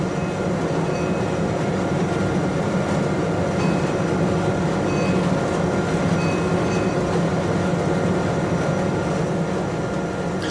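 Inside the spacious, poorly soundproofed cab of a Portuguese Railways class 1800 locomotive at full power, a loud, constant resonant engine roar with rumbling rail noise fills the space without a break.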